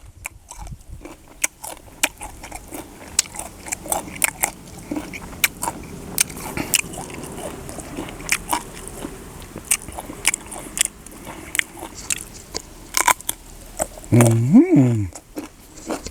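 Crunchy sour mango is bitten and chewed up close, with repeated crisp bites and wet chewing while people talk now and then.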